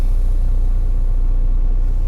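A tractor-trailer truck reverses during a parking brake test, giving a loud, close, steady low diesel rumble throughout.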